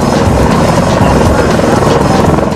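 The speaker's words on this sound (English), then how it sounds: "the copter's rotor blades subject the Marines on the ground to hurricane-force winds" Loud, close military helicopter rotor thudding in a fast steady rhythm while hovering over Marines, with a roaring wash of wind noise and no voices.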